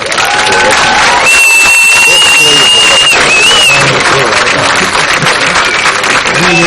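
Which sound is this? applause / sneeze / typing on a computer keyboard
applause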